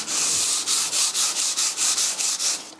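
Hand sanding on painted steel of a David Brown 990 tractor: close, loud rhythmic rasping strokes, about a dozen back-and-forth passes in steady succession with no talk.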